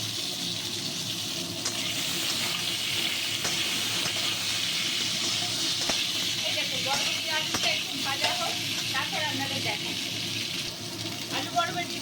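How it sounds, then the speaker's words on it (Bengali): Potatoes and yardlong beans fry together in a pan for a vegetarian curry, a steady broadband sizzle running throughout with scattered stirring clinks and scrapes near the middle and end, with no talking. "এবার আলুগুলো দিয়ে দিচ্ছি এর সঙ্গে বরবটিগুলো দিয়ে নিচ্ছি একসঙ্গে ভেজে নেবো"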